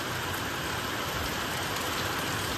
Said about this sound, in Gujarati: એટલો બધો વરસાદ પડે છે